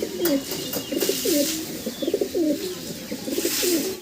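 Fancy pigeons coo close by in steady, repeated throaty phrases that roll over one another for the whole stretch, over a constant background hiss.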